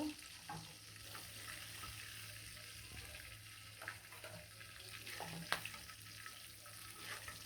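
Fish pieces frying in hot oil in a pan, turned over to brown, giving a steady low sizzle with occasional soft clicks and scrapes, close by and fairly quiet, with no talking.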